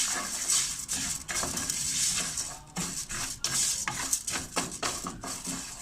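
Vermicelli (şehriye) roasting in a pot for soup, with repeated stirring scrapes and clinks of a utensil against the pan over a faint dry sizzle, close and moderately loud.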